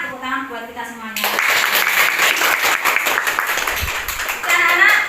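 A classroom of students breaks into applause after the teacher's voice, with dense clapping filling the middle of the clip and the voice returning at the end.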